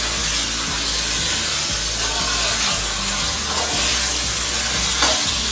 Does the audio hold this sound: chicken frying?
yes